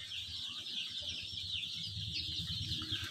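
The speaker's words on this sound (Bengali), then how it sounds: "একটা ব্রুডিংয়ের মধ্যে আছে প্রায় 550টা করে মুরগির বাচ্চা।" Roughly 550 chicks crowd a poultry brooder, their shrill peeping merging into a dense, continuous chorus that stays steady and fairly soft throughout.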